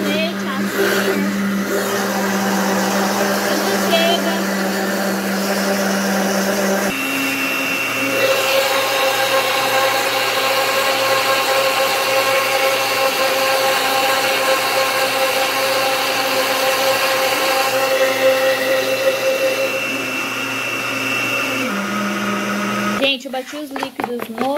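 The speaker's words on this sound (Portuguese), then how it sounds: "agora minha mãe tá batendo o trigo ali" A mixer beats wheat flour into chocolate cake batter in a home kitchen, giving a steady, loud motor whir that shifts pitch slightly partway through and runs almost continuously, with voices faintly in the background.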